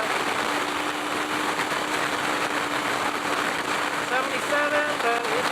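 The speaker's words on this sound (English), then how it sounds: "the engine doesn't sound like it's gonna explode. Well, maybe it does kind of sound like it's gonna explode. It's working really hard" A 2018 Kawasaki Versys X 300 motorcycle engine working hard at highway speed, a steady droning hum buried in constant wind roar, with a brief voice near the end.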